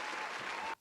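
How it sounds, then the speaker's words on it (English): Studio applause from a small group on a podcast, a dense steady burst of clapping that cuts off sharply after under a second. "I'm going to give him a round of applause"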